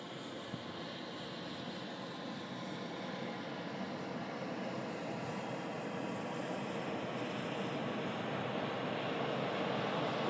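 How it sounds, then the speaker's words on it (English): A Jet2 airliner from Venice nears touchdown, its engines a faint, steady, distant roar that swells slowly toward the end, with no voices over it. "Do have a Jet 2 in the .com scheme about to touch down, coming in from Venice"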